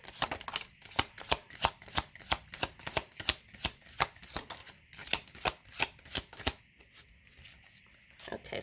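A deck of cards being shuffled in a steady series of crisp riffling bursts, close and fairly loud, each burst ending in a soft snap, with a short quieter pause near the end and no voices.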